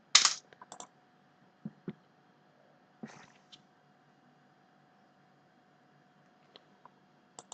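Sparse keystrokes on a computer keyboard while entering an Excel loan formula, a handful of close, isolated clicks and taps scattered across long stretches of quiet, including a firmer press of Enter.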